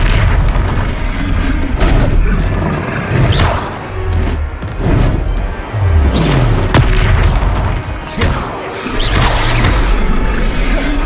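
Repeated Levioso spell casts in the video game Hogwarts Legacy produce a run of loud booming impacts and whooshes, several heavy thuds spread across the stretch with brief dips between bursts.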